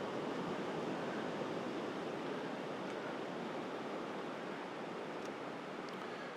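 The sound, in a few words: sea waves washing onto the shore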